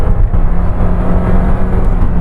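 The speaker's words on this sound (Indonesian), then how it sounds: "Salip lagi, coba gas lagi." Suzuki Ertiga car engine pulling hard under acceleration while overtaking, a steady loud low drone with road rumble heard from inside the cabin, no pauses.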